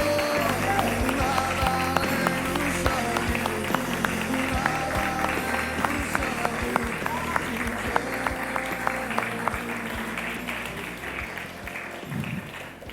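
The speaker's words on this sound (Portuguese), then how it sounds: "Vamos dar uma salva de palmas para o Senhor." A church congregation claps for the Lord during a Portuguese-language communion service, sustained dense applause with rhythmic clapping mixed with voices and music, fading slightly toward the end.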